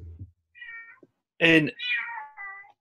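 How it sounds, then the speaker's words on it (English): A house cat meows several times in quick succession, close and clear, right after someone briefly speaks during an indoor discussion. "sorry, that's my cat"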